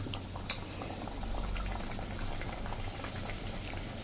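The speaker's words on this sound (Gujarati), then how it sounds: "આ રીતે તમે જો ફૂલ ફ્લેમ રાખીને અને એકદમ તેલ ગરમ કરી લેવાનું અને આ રીતે તમે પૂરી તરશો" Puris fry in very hot oil over a full flame. The oil gives a steady, close bubbling sizzle with a few sharper crackles and pops, and no one speaks.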